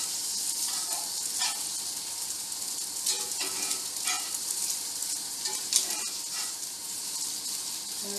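Homemade fish fingers fry noisily in a pan, a dense, close crackling sizzle with sharp spits and pops as the pieces are flipped over, running steadily throughout.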